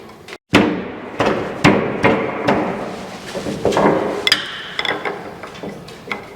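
A cotter pin is worked out of a car's front-end steering parts with a series of sharp metallic taps and knocks. The hits are close and irregularly spaced, with some scraping between them.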